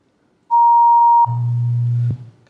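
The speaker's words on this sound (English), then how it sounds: "this emits tones, and some of these tones might be a bit loud and a bit high" A loud, pure electronic sine tone from a phone sounds alone, a high pitch that pulses briefly before a lower steady hum takes over, then cuts off abruptly.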